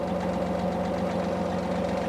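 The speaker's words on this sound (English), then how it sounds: "Now I'm going to back up the tractor here" A John Deere compact tractor with a backhoe attachment runs steadily nearby, a continuous low engine drone with a rhythmic knocking pulse at even, unchanging loudness, with no talk.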